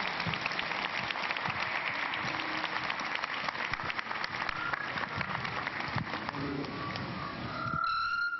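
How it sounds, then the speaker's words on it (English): A large crusade audience in Peru greets arriving guests with a big round of sustained applause, dense and continuous clapping that carries on throughout before tapering near the end. "So we are going to receive them, to host them with a big hand clap."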